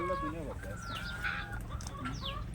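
Free-range village hens roam a lemon orchard, clucking and calling in overlapping bursts at moderate distance while someone speaks over them.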